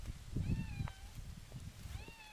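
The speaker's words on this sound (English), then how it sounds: "There's a kitty cat." A cat meows in an abandoned village in the Chernobyl radiation zone, two drawn-out tonal calls clearly separated by a pause, set against low rumbling handling noise and outdoor background.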